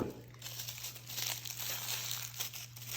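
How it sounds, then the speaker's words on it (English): Tissue paper crinkles and rustles steadily while a tortoiseshell hair pick and tool kit is unwrapped, close and fairly soft, with no talking. "Okay, a little tissue paper,"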